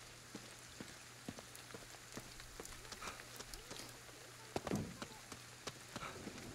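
Rain falls steadily in a night street in Ghostwire: Tokyo, a soft patter of scattered drops over a faint low hum, with one slightly louder splash standing out near the end.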